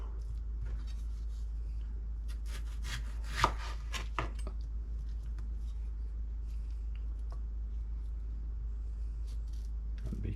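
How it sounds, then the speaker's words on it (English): A knife slices through firm green tomatoes on a cutting board, giving a few crisp chopping and scraping strokes bunched together, with one sharp louder cut standing out, over a steady low background hum. "Okay, so we got 1 tomato sliced."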